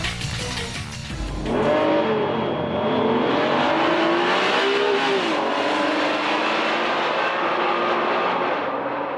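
A Honda NSX-R sports car accelerates hard along a country road, its engine rising into a loud, sustained rev with pitch climbing through the gears for several seconds.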